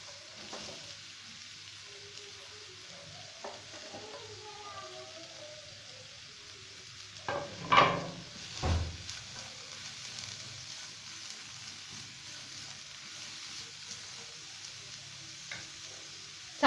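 Vegetables sauté lightly in hot oil in a frying pan, a low, quiet sizzle with soft stirring and a couple of clunks of the pan midway.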